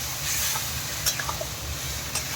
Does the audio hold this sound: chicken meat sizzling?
yes